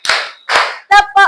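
Two loud, close hand claps from a primary-school class ring out in quick succession, followed by short spoken voices.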